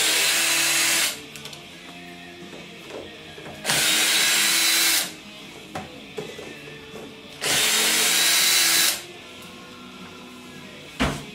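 Screws come out of a trim piece on a 2002 Miata during a top replacement as a cordless power tool whirs in three loud, sustained bursts of a second or so each, separated by quieter handling clicks and rattles, close up.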